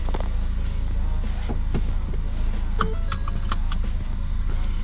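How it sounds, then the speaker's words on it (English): A 2012 Ford Focus drives after a transmission rebuild, a steady low engine hum close by with scattered clicks and faint chirping sounds over it, no talking. "But shifting good, as it should be."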